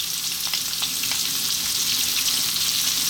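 Sliced onion and garlic fry in a hot pan for pumpkin fried rice, giving a steady, close, loud sizzle with light scraping as the pieces are tossed around, and no voices.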